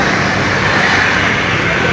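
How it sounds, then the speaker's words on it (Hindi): Steady low rumble and road noise fill the cabin of a bus travelling toward Sangla, a constant engine drone with no distinct events, loud and close throughout. "अब हम अपनी बस में बैठ गए हैं"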